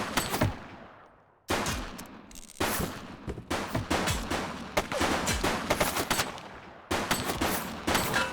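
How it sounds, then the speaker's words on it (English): Gunfire in The Precinct police game: dense, loud bursts of rapid shots and volleys, broken by a brief lull and a short gap, then resuming in sustained fusillades. "Shots fired!"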